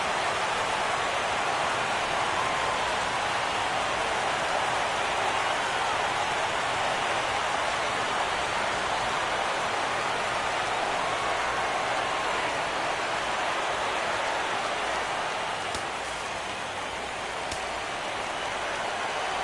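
Steady, even hiss of rain falling on a baseball stadium in the MLB 17 video game, a constant wash of noise with no talk, easing slightly near the end.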